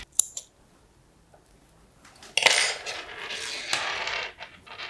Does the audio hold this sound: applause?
no